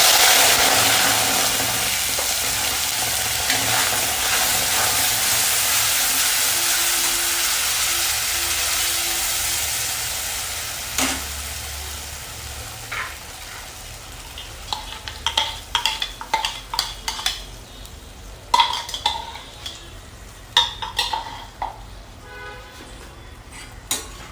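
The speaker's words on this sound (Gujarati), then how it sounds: "આ ટમેટાની પેસ્ટ છે એને સરસ રીતે સાંતળી લેવાની છે" Tomato paste for paneer masala gravy sizzles steadily in hot oil, then the hiss fades as a spoon stirs and scrapes the pan in irregular clinks.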